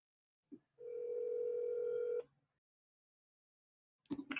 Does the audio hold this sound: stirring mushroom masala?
no